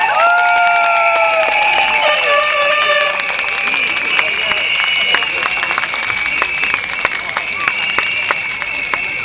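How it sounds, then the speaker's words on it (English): A crowd at a political rally in a Singapore school claps steadily throughout, dense applause filling the space, with a few tonal sounds ringing over the start. "Round of applause."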